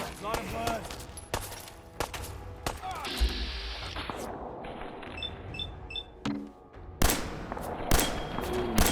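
Fallout 4 combat in Diamond City, with sharp bursts of gunfire cracking out at intervals, some clustered near the start and end. Someone talks over the shooting and game effects.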